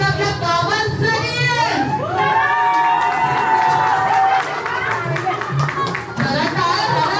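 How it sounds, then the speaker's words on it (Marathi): Loud clapping and cheering from guests at a Marathi baby shower (dohale jevan), a crowd applauding the father-to-be, with shouts and lively voices mixed through the steady applause. "एकदा जोरदार टाळ्या होतात आपल्या बाबांसाठी."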